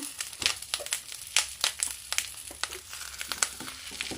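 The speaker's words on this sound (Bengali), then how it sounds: "তেল গরম হয়ে গেছে, এখন একটা একটা পাতুড়ি দিয়ে দেব।" Pomfret fish paturi parcels go into hot oil to fry, giving a faint, continuous crackle and sizzle with scattered small pops and rustles throughout.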